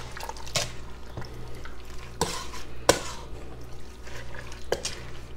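Zucchini relish ingredients stirred in a pot, wet squelching scrapes of a spoon at irregular intervals with a few sharper clinks against the side, close and moderately loud.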